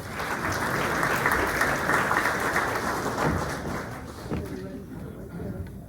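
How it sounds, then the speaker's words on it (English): Audience applause at a community candidates forum, steady clapping from a crowd that tapers off toward the end, with some talk underneath. "Let's give her a round of applause."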